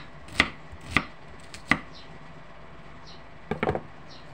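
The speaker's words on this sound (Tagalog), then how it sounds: "Yan, hatiin po natin sa gitna. Saka po natin gayat-gayatin." A knife cuts through chayote on a board in a home kitchen: a handful of crisp, separate chops, three spaced strokes, then a quick cluster of cuts, close and fairly quiet.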